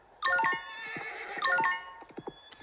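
A horse in a barn lets out a loud, close whinny that rises, breaks off and comes again, ending in a few short snorting bursts.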